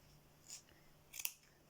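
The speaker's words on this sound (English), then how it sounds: "you're just going to tuck it under some of the loops on either side and snip through" Sharp scissors snip through the yarn loops of a small handmade pom pom, two faint, quick cuts close by in a quiet room.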